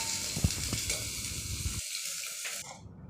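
Fish frying in hot oil in a pan makes a close, busy sizzle with a few sharp crackles before it quiets abruptly and fades out.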